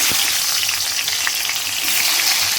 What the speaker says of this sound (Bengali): ওই মাছ ভাজার তেলে এবারে আলু বেগুনগুলো আমি ভেজে নেব